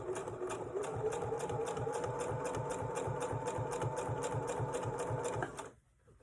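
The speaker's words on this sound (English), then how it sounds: "I'm going to go ahead and do a seam down the sides and down across the bottom." A sewing machine stitches a side and bottom seam on a fabric wallet with a steady, rapid mechanical whir and rhythmic needle chatter, running continuously before stopping abruptly into near silence.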